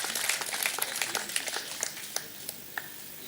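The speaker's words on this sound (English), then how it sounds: "Can we give NAFDAC a round of applause?" Applause from an audience during a news event honouring NAFDAC, a fairly faint, diffuse patter of hands that thins out into a few scattered, separate claps toward the end.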